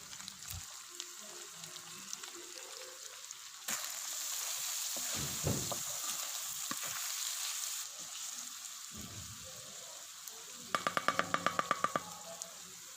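Chopped tomatoes sizzling on a hot tawa with bone marrow qeema, a steady hissing fry that swells loudly when they go in, with scattered clinks and scraping around it.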